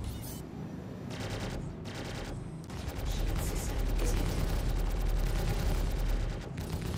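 Spaceship guns fire in Star Citizen, dense rapid bursts of automatic gunfire that stop and restart a few times before settling into a loud, continuous barrage with a deep rumble beneath.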